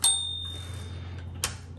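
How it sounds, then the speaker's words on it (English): Margin bell of a 1970s Smith Corona Electra 120 electric typewriter, a single bright ding with a ringing decay over the motor's steady hum, then a short clack. "You can hear the bell on this one."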